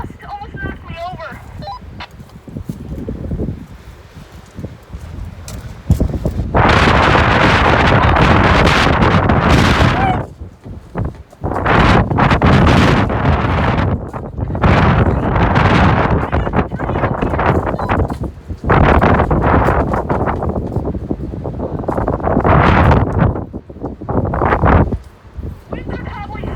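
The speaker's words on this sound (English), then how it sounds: "Winds are probably steady at like 40 miles per hour." Strong storm gusts of wind, around 40 miles per hour, slam into an outdoor microphone in loud, buffeting bursts of roaring rumble that surge and drop repeatedly. Quieter lulls fall between them, and faint talk is audible at moments.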